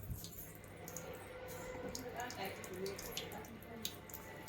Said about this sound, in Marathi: आता पाणी चालू करून